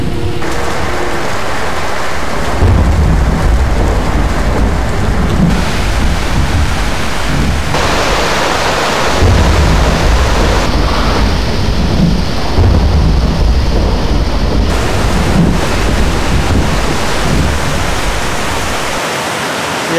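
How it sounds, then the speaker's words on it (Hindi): Heavy rain pours down continuously in a thunderstorm in the mountains, a loud, dense roar with deep thunder rumbles rolling underneath, no voices. "अगर ये बारिश इस तरह चलती रही ना तो नारायण नहीं पहुँचे"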